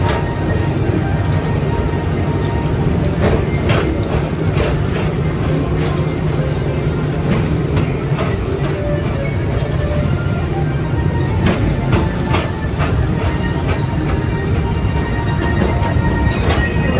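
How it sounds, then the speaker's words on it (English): Continuous rumbling and rattling of a theme park ride vehicle rolling along a track at Magic Kingdom, with clacks and squeaks over a steady low drone. "Your express train keeps on rolling through the future"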